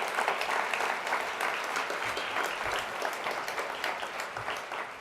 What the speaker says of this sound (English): I would be remiss if we didn't have another round of applause for Jenna and Stephanie